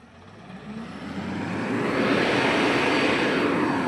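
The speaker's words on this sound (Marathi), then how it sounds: "चालू आहे बघा टिप्पर कसं फुल भरून आलंय ना" A tipper truck fully loaded with soil approaches on farmland, its heavy engine roar building steadily from faint to loud and close as it arrives.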